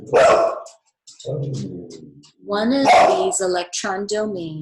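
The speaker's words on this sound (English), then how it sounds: "sorry, that's my dog." A pet dog barks in short bursts at home while a person lectures on chemistry, the barks mixed in with the ongoing speech.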